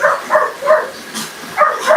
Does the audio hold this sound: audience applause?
no